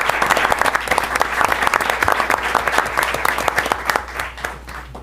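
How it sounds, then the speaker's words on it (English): A school board meeting audience breaks into sustained applause, many hands clapping in dense, steady bursts that fill the room for several seconds before thinning out toward the end. "if we could just give them a round of applause as well for all the work"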